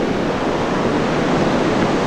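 Tveitafossen or Nesternfossen, a powerful waterfall in Husedalen valley near Kinsarvik, Norway, roars as a dense, constant broadband rush, loud and close with no pauses.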